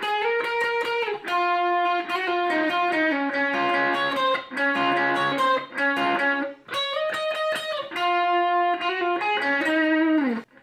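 Effects-laden electric lead guitar plays a song intro, bright sustained melodic notes with bends and slides over a steady distorted tone, loud and continuous with short gaps between phrases, no talk.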